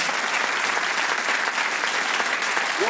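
A studio audience at the Bullseye game show breaks into sustained, dense applause, steady and fairly loud throughout with no talking over it.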